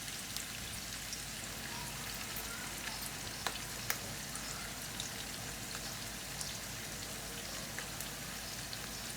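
Beef chapli kebabs fry in a pan with oil, a dense, even, rain-like sizzle that holds steady throughout, with occasional small pops and no speech.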